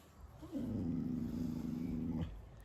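A dog chasing shadows lets out a single low, sustained growl lasting nearly two seconds, close and fairly loud, with no talk over it.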